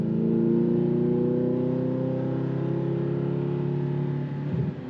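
An Audi R8 accelerates up to speed with a steady, loud engine drone that rises gently in pitch and holds close for several seconds before easing at the end.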